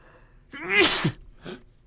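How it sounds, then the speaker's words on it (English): A single close sneeze, a quick sharp burst with a short breathy tail afterward, in an otherwise quiet room. "Sneezing. Excuse me."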